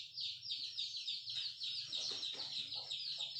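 Chickens cluck in short repeated bursts close by, over a steady high insect-like trill and a low background hum, with no talk.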